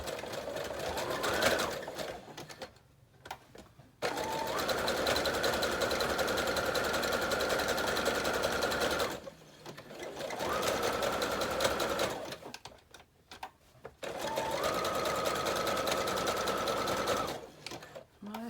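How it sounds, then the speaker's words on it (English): A sewing machine stitches through thick fabric for a journal pouch, running in long steady whirring bursts with brief pauses between them, close up and fairly quiet. "I think I'm going to stitch across there first because this is ravels a whole lot"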